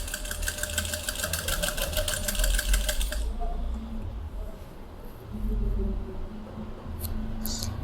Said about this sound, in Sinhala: මේක රැලි කරන්නත් පුළුවන් P5 කියන ගැදරින් ෆුඩ් එකෙන්